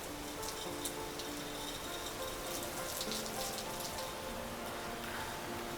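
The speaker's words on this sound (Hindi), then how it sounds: "देखें तेज़ तूफ़ानी बारिश है, मतलब अभी हवा के साथ।" Heavy stormy rain driven by wind falls outside a house, a steady dense hiss with scattered drop patter, moderately loud and unbroken, no speech.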